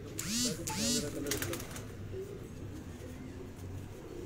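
Pigeons on a rooftop loft coo twice in quick succession at the start, then the calls fade into a steady murmur of background noise with faint distant sounds.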